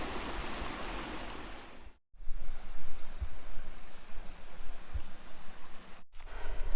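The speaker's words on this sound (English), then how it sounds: "it is right next to the creek" A creek flows right beside a tent site on the Appalachian Trail in Shenandoah National Park, a steady close rushing of water that runs continuously apart from two brief silent breaks.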